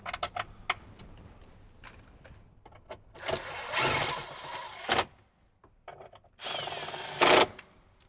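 Power tool driving 10mm bolts into the dash of a 2007–2014 Jeep JK Wrangler, with two loud whirring runs of a couple of seconds each, separated by clicks and handling noise, up close.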